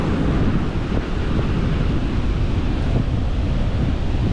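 Ocean waves break along the shore at St Petersburg, Florida, with steady wind buffeting the microphone; the surf is a loud, continuous wash without pause and no voices.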